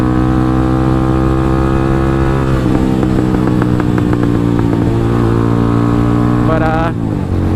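Venom X22R motorcycle with a CB clone engine and catalyst removed, pod filter and carburetor, idling steadily with a burbling exhaust, then revving up briefly with rising pitch before dropping back near the end.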